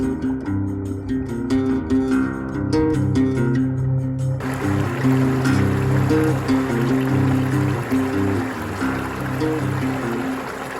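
Creek water at McCormicks Creek State Park, Indiana, flows with a steady rushing wash that grows fuller partway through, over a sustained tonal hum beneath.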